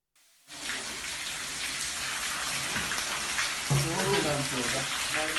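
Floodwater rushes and splashes continuously through an airport after a downpour, a steady broadband wash, with voices talking underneath toward the end.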